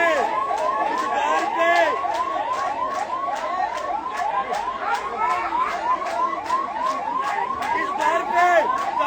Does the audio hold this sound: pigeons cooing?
no